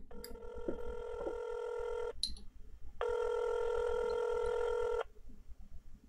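A landline telephone plays a short burst of dial tones, then gives two steady electronic rings separated by a brief pause, clear and close, with no talking.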